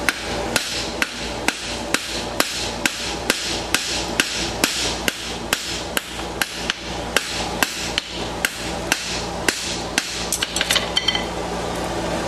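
Rhythmic hammer blows on a hot steel bar being scarfed for a blacksmith's bar horseshoe, about two sharp ringing anvil strikes per second, loud and close, continuing steadily with no voices.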